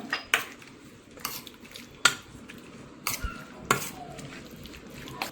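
Spoon scraping and clinking against a bowl while chicken is mixed with red chili powder and turmeric, a series of short, sharp taps spaced irregularly over soft stirring, fairly close and moderately quiet.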